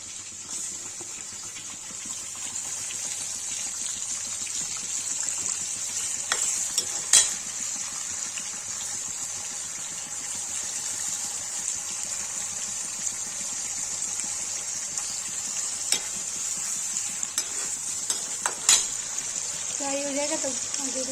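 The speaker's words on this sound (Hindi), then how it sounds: "पनीर फ्राई करने जा रही हूँ" Potatoes and paneer frying in a pan, a steady loud sizzle throughout with occasional sharp clinks of a utensil stirring against the pan, and a voice speaking briefly near the end.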